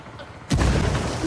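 A frag grenade blast in the Ghost Recon Wildlands video game: a single sudden, loud, close boom that swells into a sustained roaring rumble, following a quieter stretch of background ambience.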